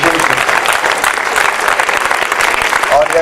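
An audience applauds after a Hindi stage adaptation of Macbeth, a loud, close burst of dense clapping that holds steady for a few seconds.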